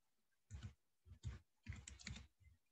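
Computer keyboard being typed on in several short clustered bursts of clicky keystrokes separated by brief pauses, quiet and close, with no speech.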